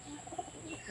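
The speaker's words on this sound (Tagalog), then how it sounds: "Mga kalapati, so ang gaganda." Several pigeons coo softly in a short, low, murmuring burst with faint chirps, heard close by and without talk.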